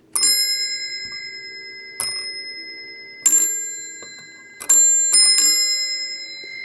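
Twin bells on an older telephone ring in short, bright bursts, about five separate metallic rings with lingering decay, close and clear in a quiet room.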